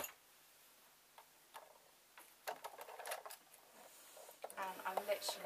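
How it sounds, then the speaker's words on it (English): A sewing machine runs in short bursts of rapid ticking stitches, close by, with faint clicks and handling noises between runs. "I have my sewing machine set up"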